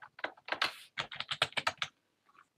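Fast bursts of typing on a computer keyboard, with close, crisp key clicks arriving in quick clusters and short pauses between them, then trailing off into near silence.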